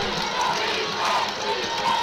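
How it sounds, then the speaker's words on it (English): Crowd noise at a high school football playoff game between Hightower and Georgetown, a dense steady roar of voices with chanting swells from the stands, rising and falling slightly throughout. "They can hear the defense chants in the crowd here."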